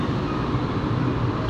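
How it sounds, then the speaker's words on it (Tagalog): A light rail LRT train on the line to Putrajaya in Kuala Lumpur rumbles past below a high-rise, a steady broad roar with no speech over it. "Ayun ang tren. LRT. Going to Putrajaya."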